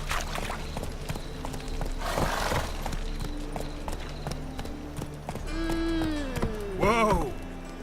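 Geralt's horse Roach from The Witcher 3 clip-clops along at a trot with hoof beats under game ambience, then gives a loud, close neigh with rising and falling whinnies near the end.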